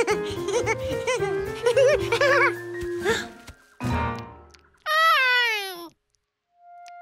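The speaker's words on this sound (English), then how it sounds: "nothing slams the brakes on fun like some strange cat eating your sandwich" A cartoon cat in Curious George gives a long, wavering meow near the end, heard alone and up close after a stretch of animated voices and music.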